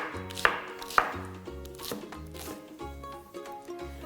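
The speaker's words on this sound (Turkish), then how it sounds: "benzer boyutlarda doğrama yapıyoruz" A knife chops mixed wild greens on a cutting board in sharp strokes, a few loud ones among softer cuts, with music playing in the background.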